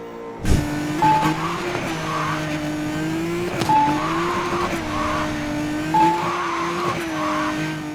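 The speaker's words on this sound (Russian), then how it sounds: "Супер тормоза. Мгновенный стоп считай." Engine drone of a car in Need for Speed Most Wanted (2012) is cut by repeated sharp tire squeals from hard stops, each squeal brief and loud, with revving between them and no talk.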